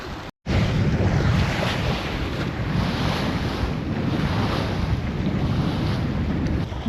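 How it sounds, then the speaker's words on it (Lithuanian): Strong westerly wind roaring across open water off the Curonian Spit, heard from a boat, a loud steady rush of gusts buffeting the microphone with waves washing beneath, after a brief cut at the start. "Sakė, Egis pasisuko vėjas biškį iš vakarų labiau."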